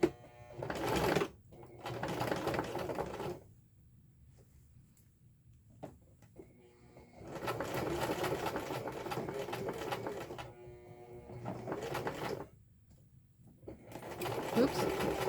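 A sewing machine runs a zigzag stitch along a fabric edge. Several bursts of fast, steady mechanical whirring are separated by short pauses, close and clear, with brief talking in the gaps.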